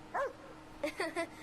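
A small dog gives a few quick, high yips and barks, close by, in a short burst with a pause after the first one.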